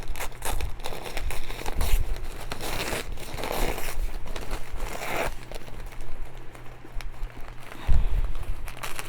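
Tear-away embroidery stabilizer backing being ripped off a stitched dog toy, with repeated crinkly tearing and rustling sounds in close bursts, with no talking.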